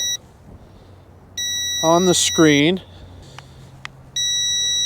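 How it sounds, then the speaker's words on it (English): A Ruko U11 PRO GPS camera drone hovering overhead sounds its low-battery warning: steady high-pitched electronic beeps that drop out and return, with a voice speaking briefly in the middle. "It's right above me over there, and it's beeping like crazy"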